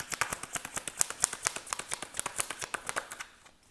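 Tarot cards shuffled to draw a truth card: a rapid, even run of crisp card riffles and flicks, close and moderately loud, fading out toward the end.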